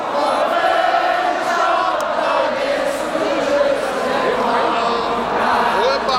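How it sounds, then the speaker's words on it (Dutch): An audience in Maastricht applauding and cheering, a broad, continuous crowd roar with clapping and shouts that holds steady throughout. "Dit applaus is goed"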